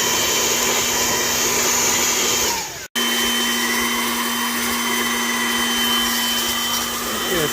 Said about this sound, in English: Shut all the heat off and commence cooling in place.